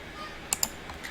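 Two quick key presses on a computer keyboard, typing shortcuts in Blender 3D software, followed by a fainter third tap, close and crisp in a quiet room.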